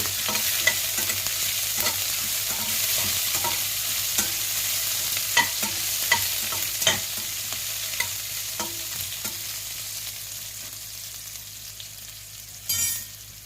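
Thinly sliced onions fry in a pan toward golden brown as the base for capsicum rice. Frequent spoon scrapes and clinks sound close over a constant bright sizzle, with no voices.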